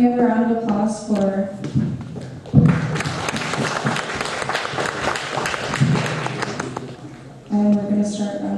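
Applause from the audience at a spelling bee, a burst of clapping in the middle with scattered thumps, framed by people talking before and after.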